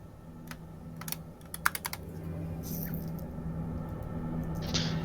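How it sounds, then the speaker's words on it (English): Clicky computer keyboard typing in bursts of sharp, closely spaced keystrokes, moderately loud and near, with a few louder isolated clicks before fading into quieter ambient noise. "I can hear the keyboard."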